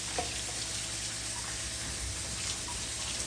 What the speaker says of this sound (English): I'm gonna rinse these off now